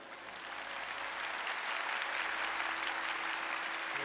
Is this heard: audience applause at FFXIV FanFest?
yes